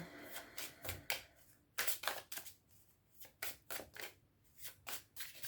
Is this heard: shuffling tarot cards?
yes